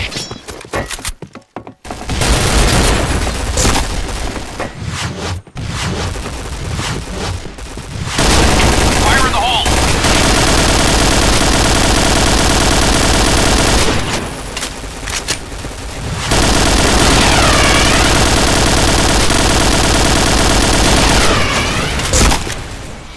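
Sustained video-game firefight with dense gunfire bursts and explosive booms, loud and nearly continuous with brief lulls, while voices call out over the battle.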